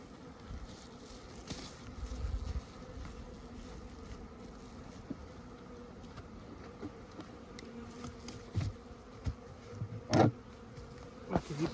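Honeybees buzzing around a row of hives during mite treatment sampling, a faint continuous drone outdoors with light wind and a few soft knocks and handling noises.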